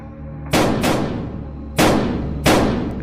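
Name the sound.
gunshots in the forest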